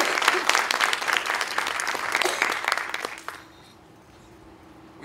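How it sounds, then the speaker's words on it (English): A crowd at a Fort Lee, Virginia graduation ceremony applauds the honored graduates with loud, dense clapping that carries for about three seconds and then stops abruptly, leaving a quiet room. "Please join me in a round of applause for the distinguished and honored graduates."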